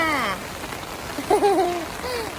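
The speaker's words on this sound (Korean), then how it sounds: "비 온다." Steady rain falls outdoors in Fukuoka, Japan, as a soft constant hiss. Brief, faint voices and a child's sounds ride over it at moderate distance.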